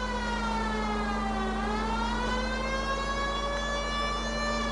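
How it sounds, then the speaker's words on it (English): Police siren in LA Noire wails loudly and continuously, a rising and falling tone sustained close by over a steady low engine drone. "Traffic needs to learn to move out the way when they hear a police siren."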